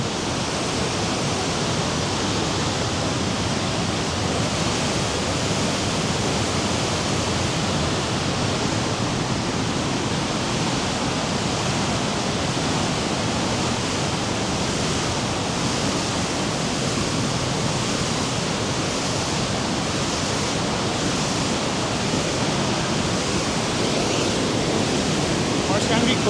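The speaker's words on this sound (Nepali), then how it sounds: "खोलाको आवाज पनि सुनिन्छ" A mountain river along the trail to Tilicho near Manang rushes continuously, a broad steady roar of flowing water heard close and unbroken for the whole stretch.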